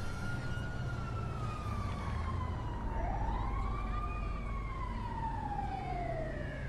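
An ambulance siren in the video game GTA V wails in slow rising and falling sweeps over a steady low rumble, heard from a moderate distance for several seconds.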